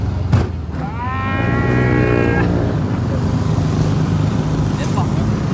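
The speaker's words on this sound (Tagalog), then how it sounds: "parang may kalabaw" A carabao (water buffalo) gives one long, drawn-out moo that rises and then fades, heard fairly close over a steady outdoor background hum.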